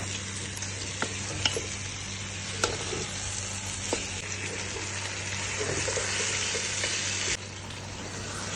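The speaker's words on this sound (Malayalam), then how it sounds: "ചിക്കനൊന്ന് ഇതിലേക്ക് ആഡ് ചെയ്തിട്ട് ഈ മസാലയൊക്കെ നല്ലവണ്ണം ചിക്കനിൽ പിടിക്കുന്നവരെ നന്നായിട്ടൊന്ന് ഇളക്കി" Chicken coated in masala sizzles and fries in a pan for biryani, a steady crackling hiss broken by a few sharp scrapes and clicks of stirring.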